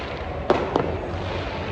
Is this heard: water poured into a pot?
no